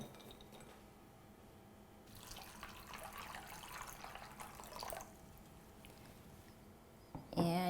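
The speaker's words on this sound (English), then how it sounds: "you just pour water over it to cover it." Tap water pours steadily into a bowl holding one cup of almonds to cover them for soaking, a soft splashing stream lasting a few seconds before tapering off, followed by a brief clink at the end.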